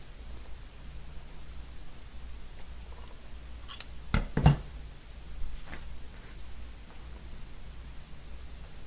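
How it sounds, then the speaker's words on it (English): Scissors trimming the white edges of handmade book pages, a few quick crisp snips clustered together midway, close and otherwise quiet. "And then trim the white end on the edges."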